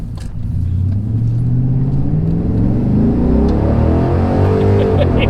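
A cammed 6.0-liter LS-swapped Chevy C1500 pickup revs hard and loud up close, its engine rumbling and climbing in pitch while a tire spins, with no talking.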